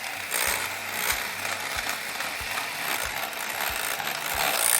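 An electric mixer whisks meringue for macarons with a continuous mechanical whir and a regular clicking tick about every half second, close and moderately loud.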